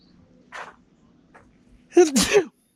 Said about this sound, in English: Needed a sneeze there for a little bit.